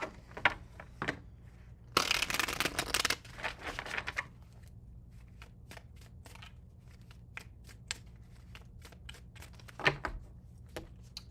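Tarot cards being shuffled up close: a loud riffling burst of several seconds, then scattered soft taps and card slides, with a brief rustle near the end.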